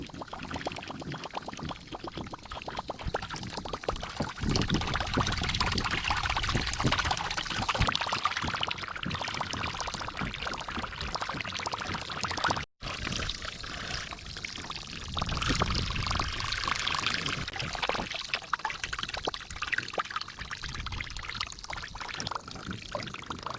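Whopper Plopper fishing lure propellers churn and splash through water in a continuous rushing, spattering stream, broken by one brief pause midway.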